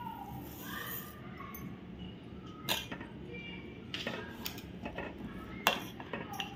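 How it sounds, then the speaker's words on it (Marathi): Spoonfuls of sugar go into a sweet-sour ragi porridge made with buttermilk, heard as a few faint, light metallic spoon clinks against a pot over a quiet background. "म्हणून मी 4-5 चमचे साखर आहे, ही पण मी त्याच्यामध्ये घालते"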